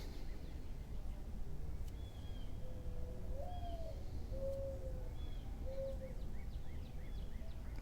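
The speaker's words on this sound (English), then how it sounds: "today it sounds like we have a dove" A dove cooing outdoors, several soft repeated coos at moderate distance over a steady background hiss, with other faint bird chirps scattered around.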